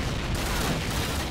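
An anti-tank gun fires in the Call of Duty video game, a loud, dense burst of gunfire that fills the whole moment with a heavy, booming rumble.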